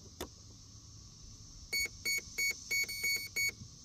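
Six short, bright electronic beeps from a battery charger for a radio-controlled boat sound in an even rhythm after a single click, fairly close and clear against a quiet background.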